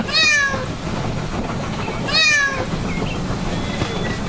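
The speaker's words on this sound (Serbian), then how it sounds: "Mačka." A cat meows twice, two clear drawn-out cries about two seconds apart, loud and close over a steady rumbling train in the background.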